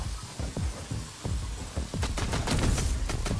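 Gunfire in the VR shooter VR Invaders comes as rapid bursts of close, punchy shots, thickening into a dense, loud volley toward the end.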